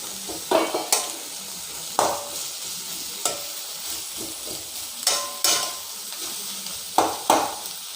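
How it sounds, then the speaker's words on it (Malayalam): Sliced onions, three medium ones, frying in hot oil in a pan while preparing Kerala-style egg roast, with repeated scraping stirs that punctuate a steady sizzle every second or so, close up and with no talking. "ഓക്കെ, അപ്പോൾ നമ്മുടെ എണ്ണ ചൂടായി വന്നിട്ടുണ്ട്. ഞാൻ സവാള ഇതിലേക്ക് ഇട്ട് കൊടുക്കണം കേട്ടോ."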